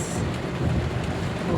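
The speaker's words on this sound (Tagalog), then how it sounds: "Kusog jud ang ulan" Heavy rain pours in a dense, continuous roar of drops hitting surfaces, loud and close, with no pauses and a low rumbling wash underneath.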